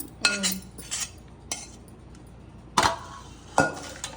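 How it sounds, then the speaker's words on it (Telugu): A spoon stirs hot jaggery syrup with cardamom powder in a pot on a switched-off stove, giving a few sharp metallic clinks and scrapes spaced irregularly, close and fairly quiet with no talk. "ఇప్పుడు పాకం ఇలా కలుపుకుంటూ ఉండాలి ఇది కలిపేటప్పుడే చల్లారిపోతుంది"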